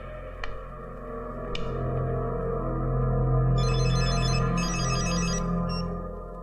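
A telephone rings with an electronic tone, first two sharp isolated chirps, then a warbling ringtone that pulses in bursts over a low sustained musical drone.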